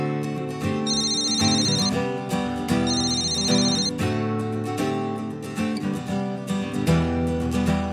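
A telephone rings in a Telugu movie scene, loud and close: repeated electronic ringtone bursts in a steady rhythm, with bright repeating tones over a sustained backing.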